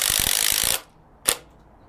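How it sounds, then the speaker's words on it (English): A DeWalt Atomic 20V Max compact 3/8-inch impact wrench (DCF923) with hog ring anvil runs in precision wrench mode. It gives a short burst of rapid, rattling hammer blows, falls silent, then makes a single sharp click. "Quite impressive for such a small and compact impact wrench"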